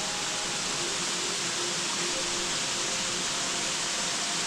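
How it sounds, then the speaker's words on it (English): An unnamed waterfall below Lulumahu Falls on Oahu gives off a steady, broad rushing roar, constant and fairly close, with no voices. "this is the unnamed waterfall below the main falls apparently"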